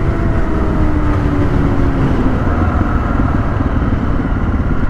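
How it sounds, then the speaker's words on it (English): A Honda XR650L motorcycle rolls along on loud tires, its steady engine and road roar filling the sound continuously at close range with no pauses, no talk, and a faint rising whine running underneath. "Boy, these tires are loud."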